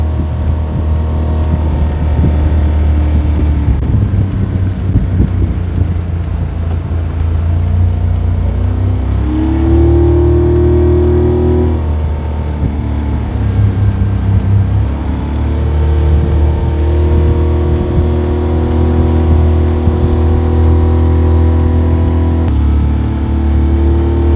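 A Pan's Marine N450 boat with a Mercury 30HP outboard motor drones steadily and loudly up close, with a pitch shift near the middle as the speed changes, and no talking.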